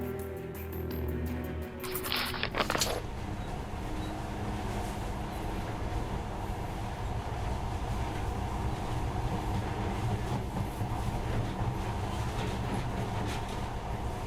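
A monorail in the post-apocalyptic game Metro Last Light runs with a steady rumbling, rattling rail noise that continues evenly for over ten seconds, preceded by a brief clanking burst near the start.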